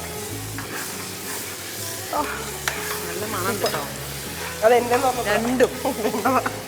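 Biryani is stirred in a hot, sizzling pan, a continuous frying hiss with scraping stir strokes, while people talk over it throughout.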